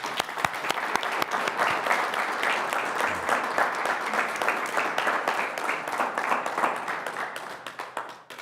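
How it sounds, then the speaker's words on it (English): A large audience gives a sustained round of applause at an organization's annual address, dense steady clapping filling the room for the whole stretch, close and loud with no talk over it. "I ask you all to join me in a round of applause for Eric and our founding board members."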